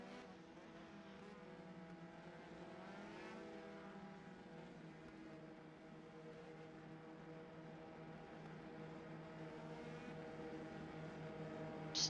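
Race car engines droning steadily on a cooldown lap at Mid-Ohio, a faint, sustained harmonic whine with gently shifting pitch, distant and alone.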